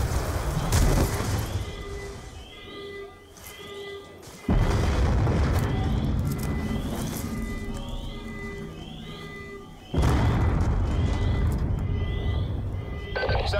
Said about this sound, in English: We're monitoring multiple explosions across the facility.